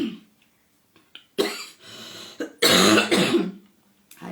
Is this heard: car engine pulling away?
no